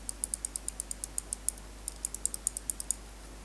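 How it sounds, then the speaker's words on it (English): Omron mouse switches from an Endgame Gear universal switch pack clicked in a steady rapid rhythm: about twenty light, crisp clicks close up, briefly pausing midway, over a faint low hum. "Then the Umron, these just feel light and less clicky"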